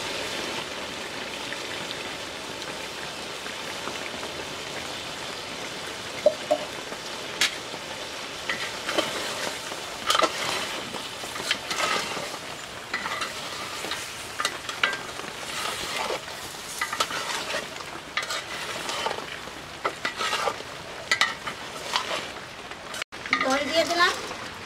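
Mutton curry with yogurt, cinnamon and cardamom fries in a pot while being stirred: a steady soft sizzle broken by repeated scraping stir strokes, heard up close and fairly quiet.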